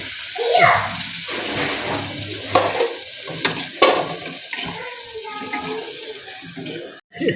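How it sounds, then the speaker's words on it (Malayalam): A splash of water is poured into oats while cooking oats puttu, a brief gush near the start, then scraping and stirring noises up close under faint background voices. "ശകലം വെള്ളം ഒഴിക്കണം."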